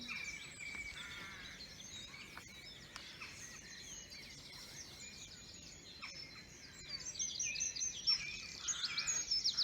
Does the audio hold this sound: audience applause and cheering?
no